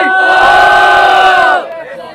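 A loud crowd roars and cheers all at once at a freestyle rap battle in São Gonçalo, the burst of noise holding steady for over a second before it drops away quickly.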